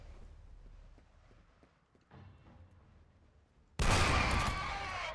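A new weapon firing in the shooter game FEAR: quieter clanking and footsteps give way to a sudden loud, roaring burst of fire that keeps going, harsh and close, to the end.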